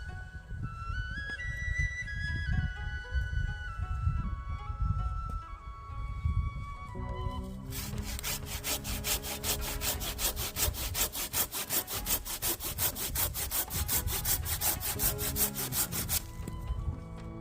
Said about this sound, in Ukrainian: Беру ось цю пилку і пробую різати нею.